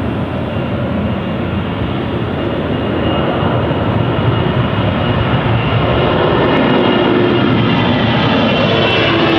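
A German Airways jet departs London City Airport, its engines roaring loud and continuous with a broad, steady rush that builds slightly toward the end.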